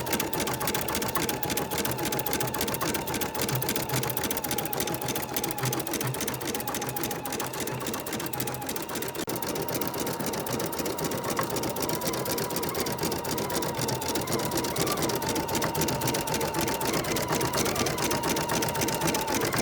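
An embroidery machine quilts with ivory matte thread around an applique area, giving a continuous, loud, rhythmic mechanical stitching drone with no pauses.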